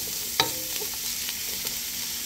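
Tomato, garlic and cilantro frying with ground beef in a pan, a soft steady sizzle with a sharp utensil scrape and a few faint stirring knocks, close and quiet with no speech.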